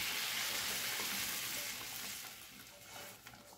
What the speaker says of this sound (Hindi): और इसके ऊपर हम ये अपना तड़का जो बघार है वो डाल देंगे।